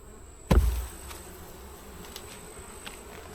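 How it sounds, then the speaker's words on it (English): Honeybees droning among hive frames, a sudden close buzz bursting in then settling into a steady, busy hum of many bees. "But certainly lots of bees."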